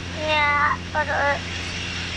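Steady drone of a Grumman Tiger light aircraft's engine in flight, heard from inside the cabin, running continuously beneath a child's and an adult's short spoken exchange.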